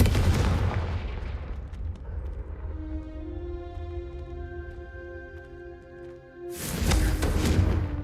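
A loud blast from the Confringo explosive spell in Hogwarts Legacy opens the moment, its booming roar fading into a sustained ringing tone before a second forceful burst erupts near the end.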